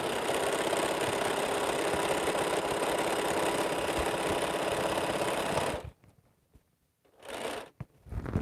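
A sewing machine stitches a quilt with a dense, steady mechanical whir for several seconds, then stops, followed by a couple of short bursts of stitching.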